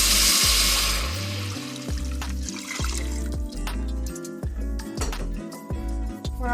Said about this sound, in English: Now you can add in your broth.